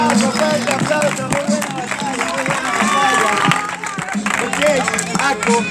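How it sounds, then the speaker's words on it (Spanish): Applause and cheering from the crowd at a rap battle, a steady dense wash lasting several seconds with voices and babble mixed through it. "fuerte aplauso."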